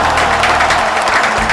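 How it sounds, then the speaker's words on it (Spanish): Brief burst of studio applause for a singer on a live radio morning show. The clapping is steady and fairly loud for under two seconds. "Fuerte el aplauso"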